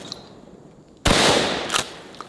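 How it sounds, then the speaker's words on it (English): A 12 gauge shotgun fires once at a clay target outdoors: a single loud, sharp blast with a long decaying tail, then a smaller crack shortly after. "Man, there's nothing like shooting a 12 gauge shotgun."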